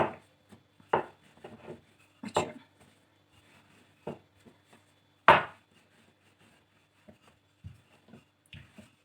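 Minced meat börek dough being rolled out thin on a floured counter, heard as intermittent soft thuds and rubbing scrapes in uneven bursts, close and fairly quiet with no talking.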